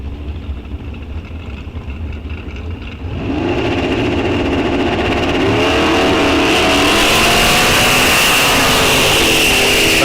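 At a bracket-series drag strip, a race car launches hard, its engine jumping from a rumbling idle to a loud, sustained roar that holds at full power as it pulls away.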